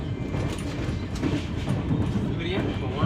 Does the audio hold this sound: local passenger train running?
yes